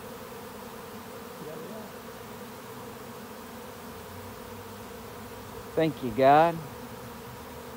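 A honey bee swarm buzzes steadily while landing on a box, a low continuous hum throughout, with a brief voice speaking near the end over the drone.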